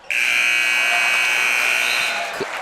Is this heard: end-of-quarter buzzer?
yes